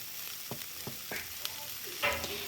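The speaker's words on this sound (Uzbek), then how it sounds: "Piyozimizni ozroq yog' solib, tovada qizartirib qovurib olamiz." Chopped onions frying in a little oil in a pan, a low continuous sizzle with several soft stirring taps and scrapes, close and fairly quiet.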